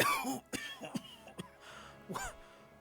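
A person coughs and clears their throat several times in short, uneven bursts, close and fairly quiet.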